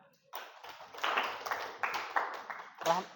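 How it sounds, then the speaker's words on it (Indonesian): A room of people claps in a short, uneven burst with several louder swells, fairly close and without speech over it. "Oke, tepuk tangan."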